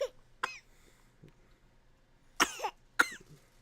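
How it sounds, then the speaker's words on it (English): A sick young girl coughs in short bursts, a brief cough at the start, then two sharper, louder coughs near the end, close by in a quiet room. "You can still hear her cough"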